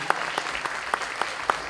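Clapping for the cast of a staged theatre production, Los amores de Sor Juana, sounds sparse here: a few distinct, rhythmic hand claps stand out over a soft wash of scattered applause.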